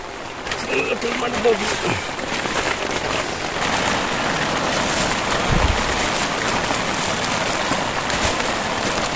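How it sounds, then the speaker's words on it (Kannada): Sudden rain pours at a riverside campsite deep in dense forest, a steady hiss of drops drumming on surfaces that holds throughout, with a person's voice briefly heard near the start. "ಸಡನ್ನಾಗಿ ಬಂತು ಮಳೆ"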